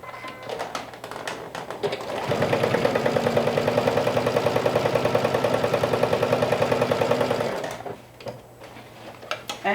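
A sewing machine stitches the side seams of a bucket hat, right sides together, in a steady rapid run of needle strokes lasting about five seconds, close and clear, with quiet handling before and after.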